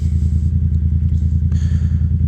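A Yamaha FZ-07 motorcycle engine idles close by on a cold day, with a steady, rapid pulsing throb and no talk over it.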